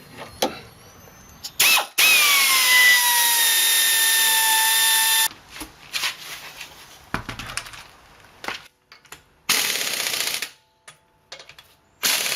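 Power tools and hand tools work on a car's rear strut while a brake caliper is refitted: loud bursts of whirring drill or impact-driver runs, a sustained rising whine, then clicks, ratcheting and clanks in short, irregular bursts.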